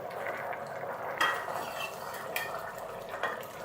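A pot of Egyptian mahshi (stuffed vegetables) cooked with meat simmers on low heat after an hour and a half. It gives a soft, steady bubbling and faint sizzling with a few small pops, quiet and close.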